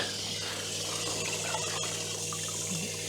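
Water running steadily from a Camplux Nano 3 Pro portable gas shower used for camping, a continuous close hiss and trickle with a low burner-like hum underneath, no talking.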